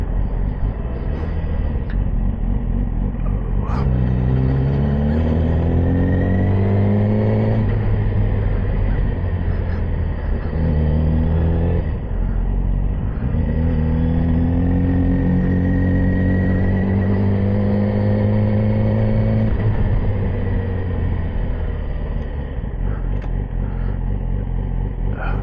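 Yamaha R6 sport motorcycle ridden around a park, the engine droning loud and steady with repeated rising pitch sweeps as it revs up through gears, heard close with wind rumble throughout.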